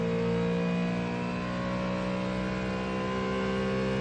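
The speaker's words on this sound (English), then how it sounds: "we can see a Ferrari just ahead of Robichon as he thunders through the grandstands" A Ford Mustang GT3 race car at Le Mans roars loudly and steadily at high revs, its engine note holding strong and close throughout as it thunders past the grandstands.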